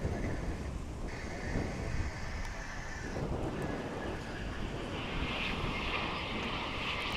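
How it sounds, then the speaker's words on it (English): An American Airlines Boeing 737-800 airliner at DFW International Airport gives off a moderate, steady jet engine rumble and whine, heard from a middle distance without talk. "American Airlines Flight 941 is a 737-800."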